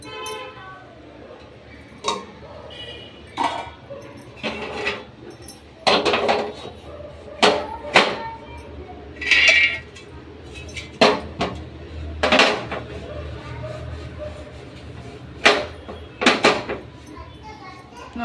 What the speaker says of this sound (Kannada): ಇಷ್ಟು ಪಾತ್ರೆ ತೊಳೆದಿದ್ದೀನಿ ಮತ್ತು ಸಿಂಕ್ ತುಂಬಿಕೊಂಡಿದೆ